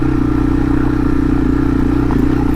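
A Yamaha TW200 motorcycle runs in second gear, its engine giving a loud, steady, close-up thrumming drone with a fast pulsing beat and no break.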